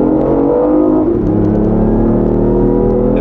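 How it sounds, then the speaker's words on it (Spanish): A car accelerating hard, a loud, close engine drone and whir that rises steadily in pitch, with no talk over it. "El coche tira."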